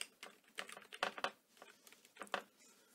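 Quick, irregular keystrokes on a computer keyboard as Clear Formats VBA code is typed into Excel, with clustered clicks and short pauses, close and moderately quiet with no talking.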